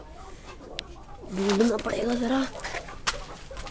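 Chickens clucking and cooing close by, with a person speaking over them.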